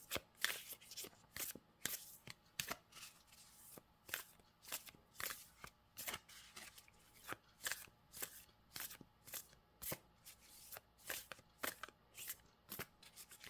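A deck of tarot cards is shuffled over and over during a reading, a quiet close series of riffling, flapping bursts in a steady rhythm with no one speaking.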